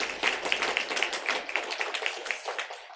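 A church congregation at a Sunday service claps in welcome for a new member who finished a five-week newcomer class, a brief round of close applause that thins out and fades.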